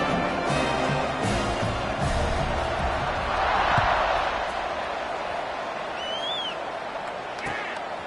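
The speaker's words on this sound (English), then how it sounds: "this crowd now ready to get behind them" A college football stadium crowd waits for a kickoff after a tying extra point, a broad roar of cheering and noise that swells midway and then eases, with an announcer talking over it.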